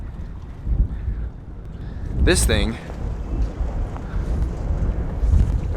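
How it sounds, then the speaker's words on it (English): Gusty wind buffets the microphone with low rumbling, while a person speaks briefly partway through. "It's kind of windy outside."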